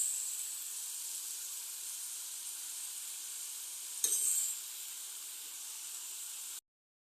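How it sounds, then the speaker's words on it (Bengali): Cabbage sautéing in a hot pan with a steady, bright sizzle that runs evenly throughout, a brief scrape of stirring partway, then an abrupt cut to silence. "বাঁধাকপিটা দিয়ে ভালো করে কষতে হবে।"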